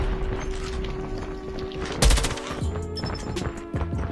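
Rapid bursts of automatic gunfire ring out in the Call of Duty Mobile game, with a sharp loud volley midway and scattered shots over a background music tone.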